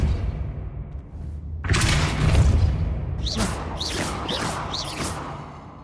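A Depulso spell is cast in the video game Hogwarts Legacy: a sudden whooshing burst with a low thump, followed by a string of quick swishing, zipping magical sweeps fading out.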